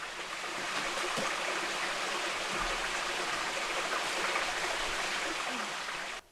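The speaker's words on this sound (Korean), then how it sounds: "이렇게 멋진 폭포수가 숨어 있습니다." A waterfall hidden in Seokmun valley, a rocky mountain gorge, gives a steady broadband rush of falling water that stays even and moderately close throughout, with no voices.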